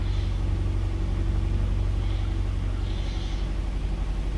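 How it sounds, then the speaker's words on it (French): A video game light aircraft engine runs steadily, a loud, even low drone with a fast pulsing beat and faint higher whine, constant throughout. "Le moteur tourne rond. Il tourne un peu fort."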